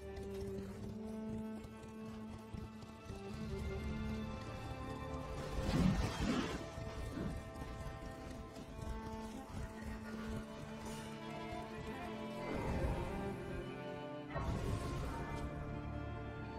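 Horse galloping in the video game Elden Ring, a steady run of hoof impacts under a layered game soundtrack, with a few louder thumps and crashes standing out at moments.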